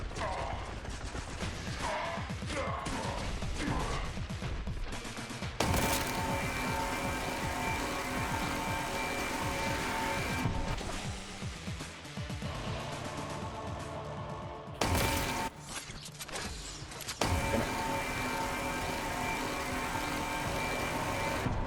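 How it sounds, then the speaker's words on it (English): Heavy combat from the video game Warhammer 40k: Boltgun, with the Volkai enemy's harsh noises amid dense gunfire, crashing impacts and mechanical clatter, loud and continuous with sudden bursts. "that is a satisfying noise the Volkai makes"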